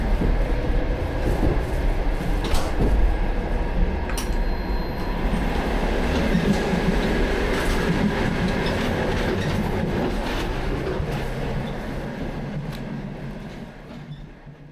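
A slow passenger train rolls along rails near the Russia–China border, heard from inside the carriage as a loud, steady rumble with rhythmic wheel clicks and occasional squeals, fading slightly toward the end.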